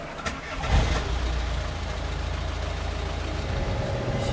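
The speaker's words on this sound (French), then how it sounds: "on a réussi à démarrer en faisant les câbles avec la voiture et le camping-car" A camper van engine, jump-started with cables from a car, cranks and catches, then settles into a steady, low rumbling idle close by.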